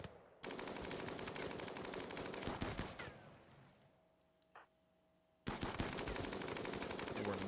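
Rapid automatic gunfire rattles in the colony strategy game Rimworld, two dense bursts of shots separated by a quieter gap with a brief tick, sharp and loud.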